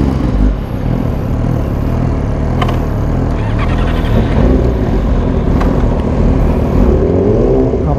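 Blue Yamaha R6 sport motorcycle fitted with an AR exhaust, a steady loud engine drone running continuously throughout, close by with no pauses.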